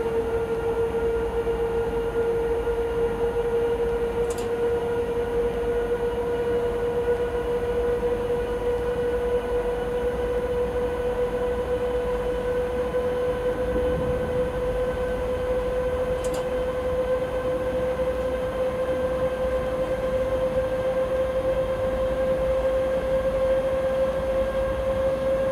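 A Traxx electric locomotive running in Train Simulator 2019, with a steady drone whose pitch rises slowly as it speeds up, under constant rolling rail noise and a couple of faint clicks.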